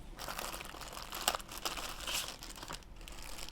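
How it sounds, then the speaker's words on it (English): A plastic bag holding a manual and warranty papers crinkles during the unboxing of a Philips fabric shaver, a close, quiet, continuous rustling with a few sharper crackles and no talking. "They include the manual and the warranty information in a plastic bag."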